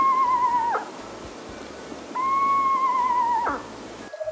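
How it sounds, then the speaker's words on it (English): A screech owl gives two clear whistled calls, each a steady tone that drops away at the end, separated by a short pause, fairly close and alone against a quiet background. "I'm a screech owl. I have a much different sound."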